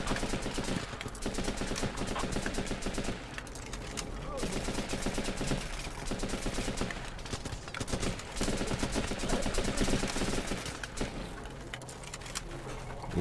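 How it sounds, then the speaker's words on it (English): Long-range rifle and machine-gun fire crackles in a large-scale battle in the Running With Rifles video game, with dense, rapid overlapping bursts of shots continuing steadily throughout, loud and busy with brief lulls. "Long range shooting."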